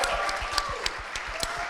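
An audience at a symposium roundtable gives a brief burst of applause, a dense wash of claps heard up close with a few sharper individual claps standing out.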